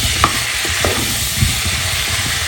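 Potato pieces fry with cauliflower in a pan, giving a continuous close sizzle with soft scraping and stirring clicks from a utensil, heard alone without any voices.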